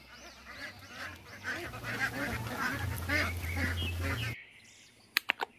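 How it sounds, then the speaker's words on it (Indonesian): Duck calls in a video game: a busy run of honking, quacking bird calls at moderate loudness that stop abruptly, followed by a couple of sharp clicks. "Wow, ini si bebek."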